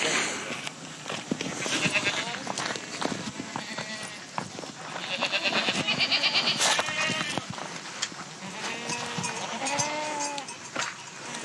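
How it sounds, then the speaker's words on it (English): Several goats bleating nearby on a farm, with repeated wavering cries overlapping one another, mixed with people talking and hoof clatter. "I hate goats as well."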